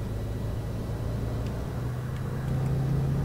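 A Volvo Wright Eclipse Gemini 2 double-decker in the OMSI 2 bus simulator pulls away from a stop, its engine a steady low rumble that rises slightly in pitch near the end, with no talking.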